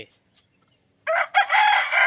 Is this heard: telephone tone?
no